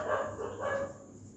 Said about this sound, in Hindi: कुत्ता बहुत आवाज कर रहा है